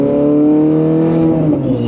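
Ferrari engine droning steadily from inside the cabin with all windows closed while driving on a familiar road, a loud continuous low hum with no talking.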